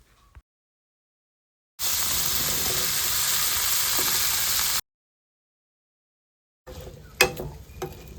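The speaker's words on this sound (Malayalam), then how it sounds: "അപ്പോഴത്തേക്കും നമുക്ക് നമ്മുടെ കൊഞ്ചുമ്പുളി ഇതിലേക്ക് ഇട്ട് കൊടുക്കാം." Bilimbi (irumbanpuli) pieces hit a pan of hot chili-garlic paste for a prawn and bilimbi pickle, giving about three seconds of loud, steady frying sizzle, then silence before softer stirring scrapes and clinks close by.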